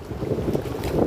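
Steady wind on a bay buffets the microphone with a low rumbling roar, continuous and close, with no voices.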